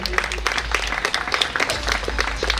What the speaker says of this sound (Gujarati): જોરદાર તાળીઓના ગડગડાટથી આપણે વધાવી લઈએ.